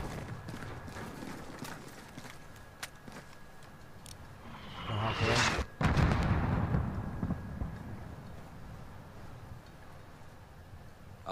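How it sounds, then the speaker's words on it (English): Mortar fire in the Call of Duty Modern Warfare game, with a heavy booming blast around the middle that swells into a loud rumbling roar before settling back into a steady battlefield din. "Mortars! Alex, take them out! Look for the muzzle flash when they fire."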